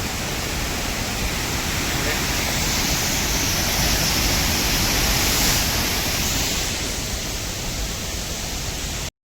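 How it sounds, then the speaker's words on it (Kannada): Steady, dense roar of a large waterfall flowing on a Mangaluru hillside, loud and unbroken throughout before stopping abruptly at the very end. "ನೋಡಿದ್ರು ದೊಡ್ಡ ಜಲಪಾತನೇ ಹರಿದೈತೆ"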